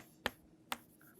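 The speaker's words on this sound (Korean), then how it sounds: "내가 손뼉을 치면은" Two sharp, quick hand claps about half a second apart ring out over faint room tone during a Buddhist monk's lecture at Gounsa temple.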